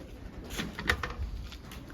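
Soft pigeon coos close by, a short low throaty call rising and fading over light background noise.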